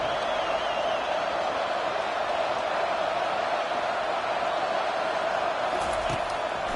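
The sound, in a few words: football stadium crowd cheering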